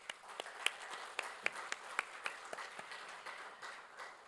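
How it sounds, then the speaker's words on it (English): Sparse, scattered clapping from a conference audience after a panel discussion, a handful of distinct claps spaced out over a few seconds, fairly faint and somewhat distant. "please give them a big round of applause"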